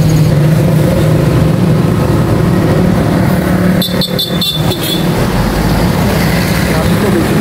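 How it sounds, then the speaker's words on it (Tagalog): Steady road traffic rumble fills a busy street, loud and continuous throughout, with a brief cluster of sharper clatter midway and people talking nearby. "Traffic po, medyo traffic."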